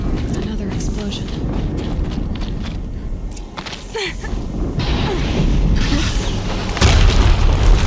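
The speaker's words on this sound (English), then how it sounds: "Another explosion." Explosions in the video game Horizon Zero Dawn, with heavy rumbling booms and crashing debris over continuous loud low-end noise and a sharp burst near the end.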